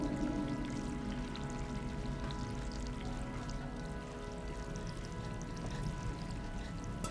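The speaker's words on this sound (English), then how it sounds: "I hear running water." Water runs and trickles in a continuous, even stream in the video game Stray, with no voices.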